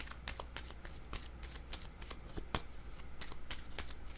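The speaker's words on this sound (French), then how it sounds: "Je vais déposer une carte sur les alliances" A tarot deck shuffled with steady soft card slides and sharp flicks, then a card laid down, all close and fairly quiet over a low steady hum.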